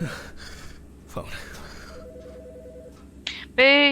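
A phone in the video game Autopsy Simulator gives a short run of dialing tones, followed by a loud ringing tone, with gasps and breathing around it.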